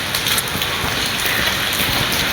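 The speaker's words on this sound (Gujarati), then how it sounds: "વરસાદ ચાલુ છે અહીંયા કોસંબામાં ફૂલ વરસાદ છે।" Heavy rain falling steadily in Kosamba on a morning, a dense, loud, unbroken hiss with no voices over it.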